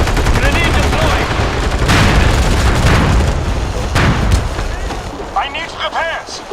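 A grenade explosion amid heavy gunfire in the online shooter MAG on PlayStation 3, a loud boom among rapid machine-gun bursts and rumbling blasts, with game voice chatter in the mix.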